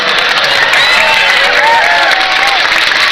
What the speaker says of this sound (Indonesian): Mereka udah mulai tepuk tangan.